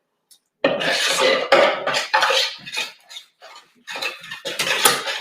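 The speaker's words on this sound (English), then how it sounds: "Just keep stirring." A spoon scrapes and knocks around a pan while stirring melting chocolate for Christmas rocky road, in irregular close bursts with a short spoken remark.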